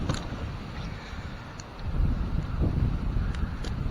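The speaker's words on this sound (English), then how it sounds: "Oh yeah, that wind's blowing good." Wind gusting strongly around a tree during an ash removal, heard as a broad rushing buffeting against the microphone that swells louder midway, with faint knocks in the background.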